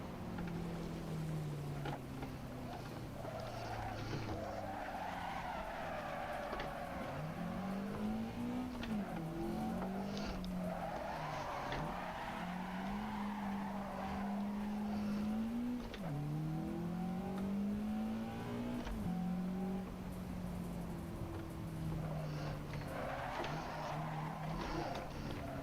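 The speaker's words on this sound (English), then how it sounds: "I feel like I can use that dirt patch to get oversteer" Game car sliding with oversteer across a dirt patch, its engine note rising and falling in long revving sweeps with a continuous skidding, scrabbling texture throughout, steady and fairly loud with no talk.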